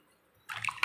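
Water is poured into a pot of fish curry cooked with raw mango. A short splash bursts in after near silence and lasts less than half a second, close and moderately loud.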